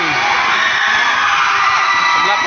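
Fans of SMK Taman Fajar cheering at a school handball match in Sandakan, a loud crowd roar with high shouts and whoops, dense and sustained, echoing in a hall.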